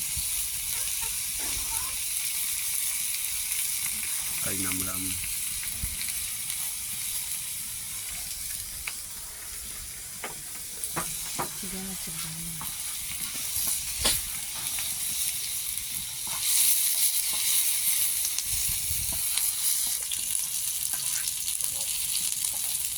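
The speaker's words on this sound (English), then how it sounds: "This is like the shrimp. You fry for a short while and it's done." Termite kings and queen fry on a tawa pan with a steady sizzling hiss, broken by faint clinks and scrapes, while a person talks briefly over the cooking.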